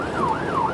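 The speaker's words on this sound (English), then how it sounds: "I can see the police car coming" A police car siren wails on a motorway, its rising and falling tone sweeping twice in under a second, clear and fairly close over the hum of traffic.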